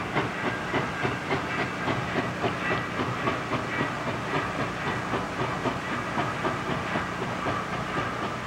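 A steam locomotive chugs steadily past on a photo run with a rhythmic clatter and hiss, loud and continuous throughout, with no voices.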